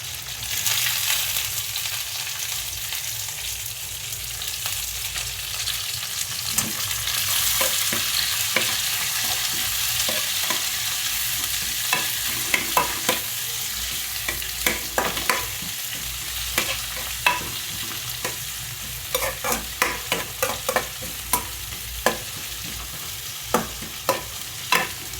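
Onion frying in a pan while being stirred for a vegetable curry, a continuous close sizzle broken by repeated scraping stirs that grow more frequent toward the end, no speech.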